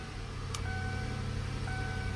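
A 2002 Ford Thunderbird Deluxe Edition V8 engine idles low and steady after a brief click, with a faint chirp in the background.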